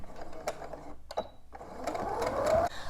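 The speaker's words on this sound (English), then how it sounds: "as I sew down, I'm just going to take the pins out." A sewing machine stitches fabric for a washable Roman shade, running in steady bursts with brief pauses as the fabric is guided, close and moderately loud.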